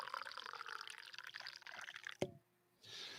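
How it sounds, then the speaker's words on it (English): Coffee pouring into a cup: a steady liquid stream for about two seconds, then a clink and brief quiet before faint room noise returns. "So I'm going to pour myself a cup of coffee."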